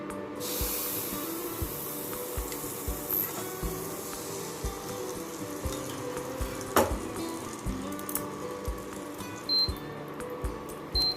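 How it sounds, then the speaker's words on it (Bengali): Batter for patishapta pitha sizzling steadily in hot oil in a pan, a continuous close hiss with faint clinks of utensils now and then. "তেল গরম হয়ে গেছে এবারে গুলে রাখা ব্যাটার থেকে সামান্য একটু দিয়ে দিচ্ছি"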